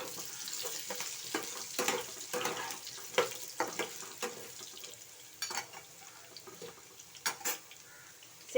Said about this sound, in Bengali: এইবার আমি একে একে আলুগুলোকে ছেড়ে দেবো।